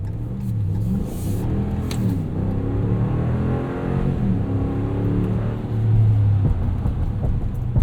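A 2018 Ram 1500 Sport Crew Cab 4x4 pickup driving on winter roads in four-wheel drive auto, its engine rumbling steadily from inside the cab with rising and falling revs as it accelerates.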